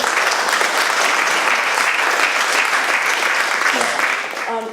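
Sustained applause from a community audience at a 2018 gathering, a dense steady wash of many hands clapping that holds strong throughout and eases slightly at the very end.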